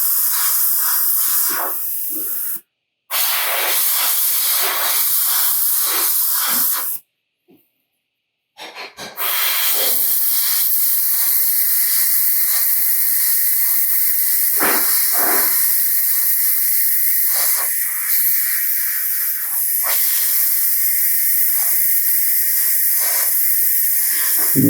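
An airbrush sprays paint onto a quarter-scale Thor sculpture as a close, continuous hiss, broken by two short pauses and then resuming steadily with slight fluctuations.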